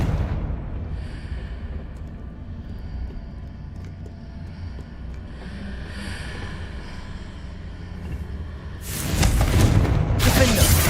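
A Confringo blasting-spell explosion in Hogwarts Legacy erupts as a loud, sudden burst near the end, after a stretch of low rumbling game noise.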